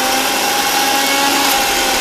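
A kitchen mixie grinder churns a batch of cooking ingredients in a steady, loud, continuous whir with a faint steady tonal hum, running without pause and without talk.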